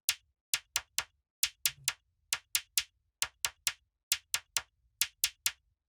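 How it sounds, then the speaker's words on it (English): Crisp FM-synthesized percussion hits in a repeating pattern, short clicky tones falling in groups of two and three with silence between, clean and close. "it's just a simple percussion sound made using FM synthesis"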